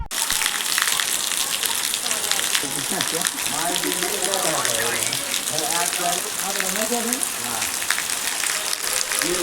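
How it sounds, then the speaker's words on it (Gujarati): Heavy rain pours down in a Gujarat village, a dense and constant rushing hiss with gushing water, while a voice speaks beneath it. "હાલો તમને પણ હવે વરસાદ દેખાડું"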